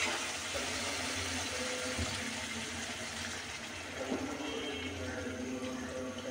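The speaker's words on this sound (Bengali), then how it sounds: "আমি আরও একটু কষিয়ে নিব, তার জন্য একটু পানি দিব আবারও।" A little water is poured into a pan of dried loitta fish being cooked down with bean seeds, making a steady close gushing wash that runs the whole time.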